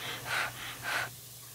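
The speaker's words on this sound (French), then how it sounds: "et arrive devant elle tout essoufflé." Two heavy, breathy gasps of panting, like someone out of breath after climbing to the top of a bell tower, close and fairly soft, followed by quiet.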